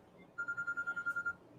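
Another phone trills faintly in the background, a single short burst of about ten quick electronic pulses in an otherwise quiet room.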